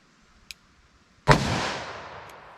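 A single sharp gunshot from a Federal .357 Magnum round fired over a chronograph, loud and close with a decaying tail, preceded by a faint click.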